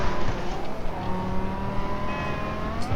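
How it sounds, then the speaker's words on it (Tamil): A car in the GTA 5 video game drives at high speed, its engine giving a sustained roar with rising tones as it accelerates, steady and moderately loud throughout. "செம ஸ்பீடு போகுது இந்த காரு."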